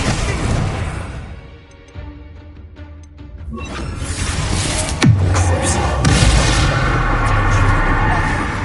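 A Confringo fire-blast spell in Hogwarts Legacy hits with a loud booming crash after a brief quieter lull, then a rumbling, roaring blast that carries on under continuous in-game combat noise.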